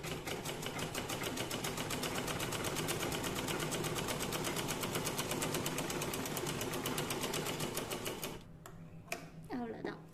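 Sewing machine stitching a straight seam through fabric, a loud, steady rapid run of needle strokes lasting about eight seconds before stopping, followed by brief quiet handling.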